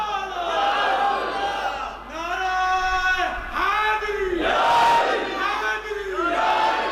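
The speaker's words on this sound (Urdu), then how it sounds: "زور سے ہاتھ اٹھا کے زور سے نعرہ لگاؤ۔" Large religious gathering whose crowd shouts a slogan in loud, sustained unison, the massed voices rising and falling in repeated chanted phrases that fill the space.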